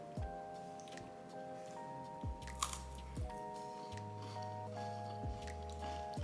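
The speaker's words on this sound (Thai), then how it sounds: "แกะแครกเกอร์ที่คุณแม่ส่งมาให้แล้วก็จะกิน2อันนี้นะคะ" Someone eats crackers sent by their mother, giving faint, close crunchy bites and chewing over a quiet background with soft sustained music tones.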